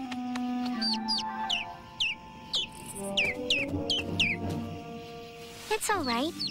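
Quick, repeated high chirps from a small bird ring out over the course of the clip, with a voice speaking in between.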